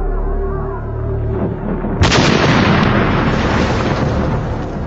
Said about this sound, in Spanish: Unos conductores suicidas lanzan un coche bomba de 900 kilos contra la embajada de los Estados Unidos.